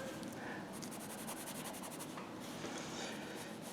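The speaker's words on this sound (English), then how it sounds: "And I'll try to erase that a little bit." Eraser rubbing back and forth on paper while sketching a puppy drawing, a steady close scratchy friction that runs continuously without pause and without talk.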